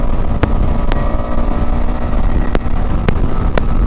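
KTM Adventure 250 motorcycle engine spinning at nearly 7,000 RPM while riding, a steady buzzing drone mixed with wind rush and a few sharp clicks or ticks.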